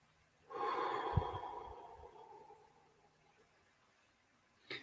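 A single deep, slow breath during guided meditation, an airy close inhale that fades gradually, followed by a short faint breath near the end.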